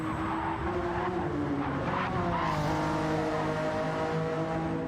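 Castrol Supra race car in Gran Turismo 7, its engine droning steadily with shifting pitch and a hint of tire squeal, loud and continuous with no voices.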